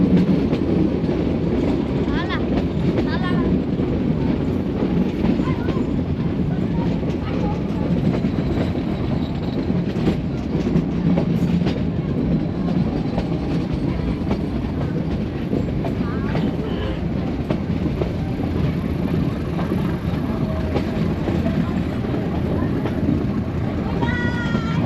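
A train rumbles steadily along the track at low speed approaching Talala Junction in India, a continuous heavy drone with faint rhythmic clatter from the wheels.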